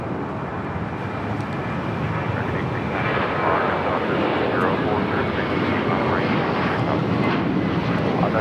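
A Korean Air airliner taxis at Los Angeles International Airport, a broad, steady engine roar that grows a little louder partway through and then holds, with a voice speaking over it.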